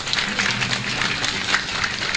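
Short burst of steady applause from a small group, moderately loud and continuous, with no speech over it.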